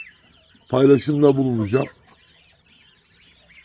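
A pet rooster gives a short burst of loud, close clucking calls lasting about a second, with quiet background before and after and a voice speaking briefly.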